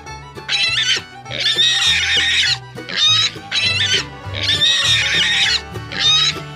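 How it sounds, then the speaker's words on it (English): Pig oinking and squealing in a farm animal sound sequence: repeated loud, harsh grunting bursts in close succession, each a second or so long, close up with no talk over them. "Pig."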